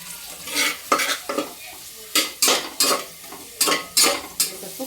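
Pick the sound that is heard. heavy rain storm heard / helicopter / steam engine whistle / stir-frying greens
stir-frying greens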